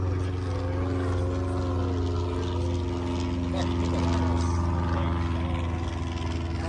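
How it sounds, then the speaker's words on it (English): A bush-wheeled aircraft flies its display at the Oshkosh 2023 airshow, its engine drone steady and continuous throughout, heard from a distance under crowd ambience and some indistinct talk. "I'm not really sure what aircraft this is, but it seems to be a very great performance."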